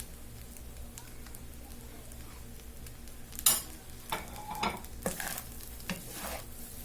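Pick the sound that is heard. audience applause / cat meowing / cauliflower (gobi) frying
cauliflower (gobi) frying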